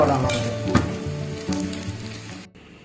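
Sautéed eggplant sizzling in a pan for brinjal rasam, a loud close hiss of frying with a few stirring scrapes, cutting abruptly to near quiet at the end.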